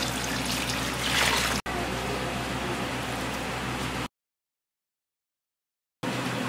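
Chicken broth pours in a steady, noisy stream onto tamale masa for about four seconds, then cuts to silence before the pouring briefly returns.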